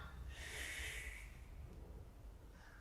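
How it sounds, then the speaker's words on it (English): A person exhales forcefully through the nose or mouth during a stick-assisted stretching routine, one strong breath lasting about a second, close and fairly loud, then fading to quiet room noise. "Breathe out."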